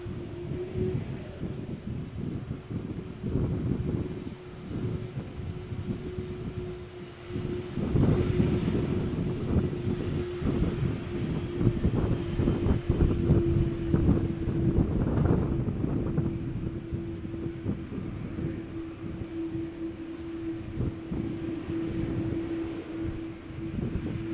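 An Airbus jet making a rolling takeoff bound for Dublin from Malaga Airport's runway 13 on a stormy morning, a steady engine whine and roar building and rumbling loudly, mixed with gusty wind on the microphone.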